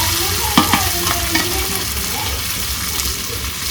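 Chicken curry meat is stir-fried village style in a pan, giving a constant close sizzle broken by a few scraping and clinking stirs.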